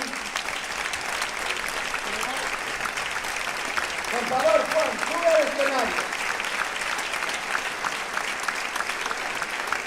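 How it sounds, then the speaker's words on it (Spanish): A live audience in A Coruña claps steadily for Juan Durán at a show, a continuous mid-level patter of many hands while someone speaks over it from the stage. "Un aplauso para Juan."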